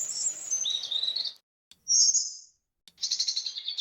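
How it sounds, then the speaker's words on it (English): Bright birdsong from an AI-generated forest ambience, several clear chirping phrases broken by short silences, with no wood chopping to be heard and no voices. "So this is all birds with chopping wood."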